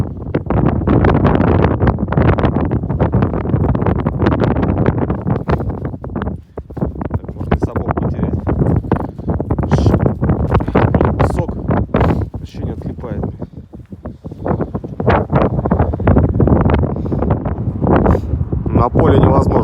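Strong wind buffets the microphone outdoors on a sandy field, loud gusty roaring that rises and falls in waves throughout, with someone speaking Russian underneath.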